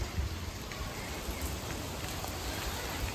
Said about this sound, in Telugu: మనకైతే వర్షం అయితే పడుతూనే ఉంది, వర్షంలోనే మేమైతే వెళ్తున్నాము.